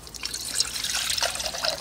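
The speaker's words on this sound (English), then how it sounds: "now I'm going to take 16 ounces of water and put it in this little aluminum pan here" Sixteen ounces of water pours into a small aluminum pan, giving a steady, close trickling splash that holds for under two seconds with no talk over it.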